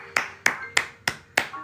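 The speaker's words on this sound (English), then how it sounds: "Round of applause for Zakaya." Round of applause from a single person, five sharp hand claps in an even, steady rhythm, close and crisp with nothing else heard.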